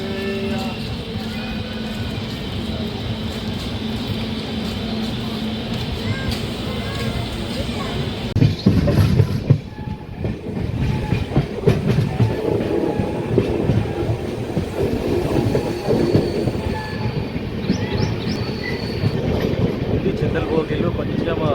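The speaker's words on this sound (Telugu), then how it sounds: "సో గాయ్స్ మనం అయితే బయలుదేరాము జడ్చెర్ల రైల్వే స్టేషన్ నుండి" An LHB-coach passenger train pulling out of Jadcherla railway station on the Kurnool–Kacheguda route, its steady rumble growing louder with rhythmic wheel clatter as it gathers speed, heard from on board with a voice talking over it.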